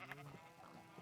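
A single gray sheep bleats in a blocky sandbox video game, one short, faint, wavering call with no talking.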